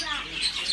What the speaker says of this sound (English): There's birds everywhere.